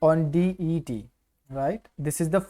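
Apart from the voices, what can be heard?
No everyday noises stand out.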